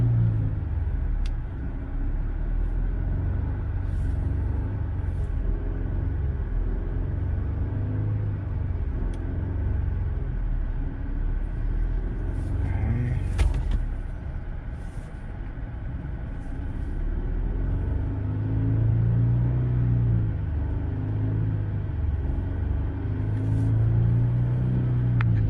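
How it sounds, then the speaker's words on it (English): A Genesis GV80 engine idles nearby with a low steady hum, then gets revved in slow swells that rise and fall a few times, with faint clicks in between. "Let me try to rev it there."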